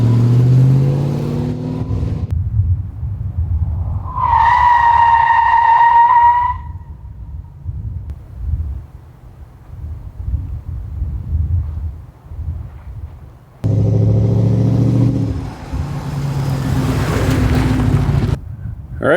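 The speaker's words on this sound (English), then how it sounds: "I am going to slam on the brakes right by those 3 trees that you can see there" A pickup truck locks its tires under hard braking after a brake job: a sharp, tonal tire squeal lasts a couple of seconds, with engine rumble and wind buffeting around it.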